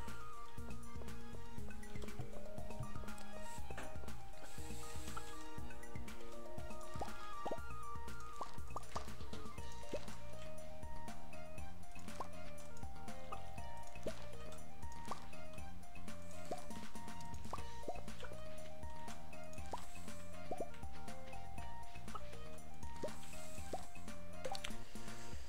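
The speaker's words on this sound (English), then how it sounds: "Well, then we are just going to water." Crops being watered in the video game Stardew Valley: soft, repeated splashy watering-can sounds recur under steady, continuous background game music.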